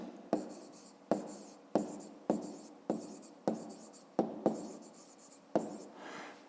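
A pen writes out a math solution on paper at close range, giving a quiet rhythmic run of strokes, each starting with a sharp tap and trailing off in a scratchy rub, about ten in a row.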